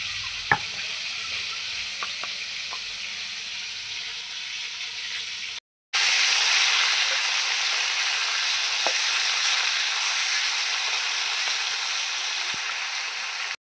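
Spices sizzle and fry in a hot pan, a steady loud hiss that stops briefly and resumes, with faint stirring ticks and no talking.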